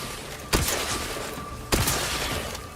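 Two loud, sharp bursts of gunfire about a second apart in The Outer Worlds 2 video game, each with a crackling tail over a steady humming background, with no voices.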